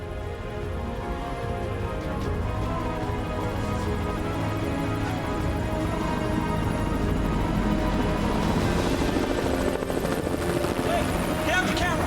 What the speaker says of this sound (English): We heard helicopters initially flying overhead